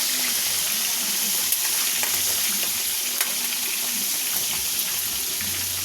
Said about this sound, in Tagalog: Iprito kong hakpok siya.